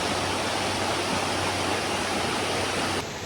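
River flowing beside a glamping campsite, a steady broadband rush of moving water heard close and alone, dropping slightly in level near the end.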